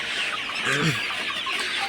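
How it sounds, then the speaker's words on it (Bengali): Sonali hybrid chickens clucking in a poultry farm, a short burst of close clucks rising over steady barn noise and hum. "আপনারা দেখতে পাচ্ছেন আমার খামারের ফুল ভিউ তো মুরগিগুলো মাসাল্লাহ ভালোই আছে"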